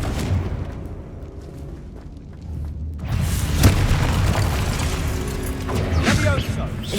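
A Confringo fire spell explodes in Hogwarts Legacy with a sudden loud boom and crackling blast, part of ongoing spell combat sounds, with a brief sharp impact near the middle.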